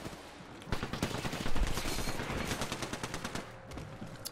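Rapid automatic gunfire from an Apex Legends match rattles in dense bursts, with no voices over it.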